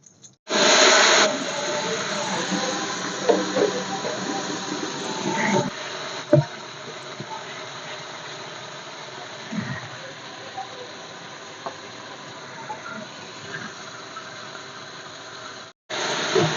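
A ground paste of ginger, garlic, onion and tomato fried in a pan after a cumin tempering, giving a steady hiss of sizzling oil that starts abruptly, runs almost the whole time and cuts off near the end, with occasional faint knocks.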